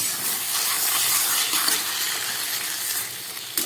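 Steady steam hiss rising from an iron wok of palak saag once its lid is lifted, a broad airy rush that stays loud and even for several seconds, with no talking.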